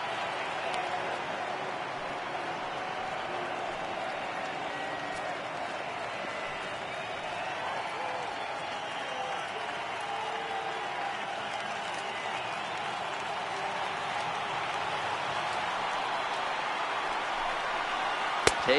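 Stadium crowd in MLB The Show 18 baseball, over 39,000 fans on their feet, roaring and applauding in a steady, dense wash that holds throughout without a break.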